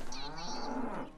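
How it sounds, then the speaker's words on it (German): A cartoonish cow moos in the Worms Battleground video game, one sustained, wavering low bellow lasting about a second and fading at the end. "Die Kuh kommt aus dem Flugzeug?"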